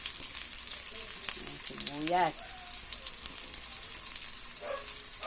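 Garlic and onion sizzle steadily in a pan for a ginisang monggo dish, a soft continuous frying hiss with a brief scraping stir near the middle, quiet and close.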